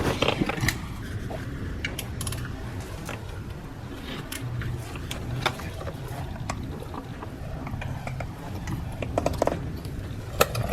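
A 19 mm wrench working the serpentine belt tensioner on a 2016-2021 Honda Civic 1.5L engine, giving close metallic ratcheting clicks and clanks over steady workshop noise, with no talk.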